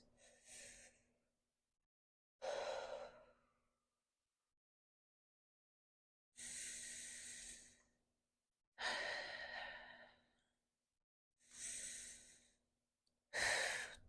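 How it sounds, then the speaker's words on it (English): Slow, deep breaths during a casual morning yoga flow, each long inhale or exhale heard close and alone, spaced by silent pauses in an unhurried rhythm. "We're going to take 3 breaths."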